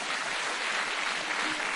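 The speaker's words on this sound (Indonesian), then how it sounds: "tepuk tangan nih buat Pak Suparto." Steady clapping from a crowd at a gathering around the presidential inauguration of Jokowi, a dense, even wash of hands that holds at moderate level through the short stretch with no voices.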